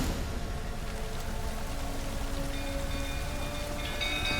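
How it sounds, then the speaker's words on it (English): Rain in the video game The Witcher 3, a dense, even patter of falling rain continuing steadily throughout with a faint tonal hum underneath and no speech. "Looks like rain."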